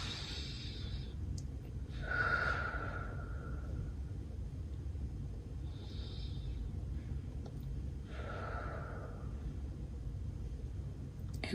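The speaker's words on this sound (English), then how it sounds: "we will take a really good deep breath" A slow, deep breath drawn in and let out twice, faint and close, with soft airy whooshes over a steady low background hum and no talking.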